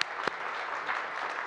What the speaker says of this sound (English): Big round of applause for the leaders.